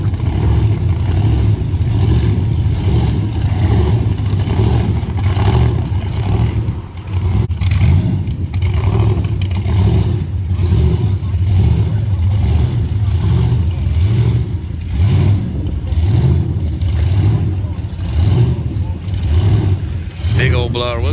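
A supercharged car engine revs and rumbles at a crowded outdoor car cruise at outlet shops in Ocean City, a continuous loud idle swelling into repeated throttle blips while people talk over it nearby.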